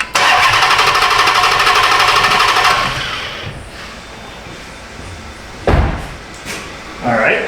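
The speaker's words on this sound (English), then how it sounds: "I'll just crank it right now." A 2009 Dodge Challenger that has sat dead for six months cranks loudly and steadily for a few seconds, then cuts off, leaving low rustling with a couple of brief knocks afterward.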